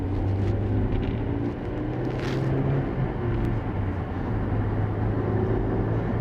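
A 2008 Honda S2000 sports car drives along a bumpy road, its engine a steady droning hum. Partway through, the engine note shifts briefly as the car downshifts into third, then settles back into a continuous rumble.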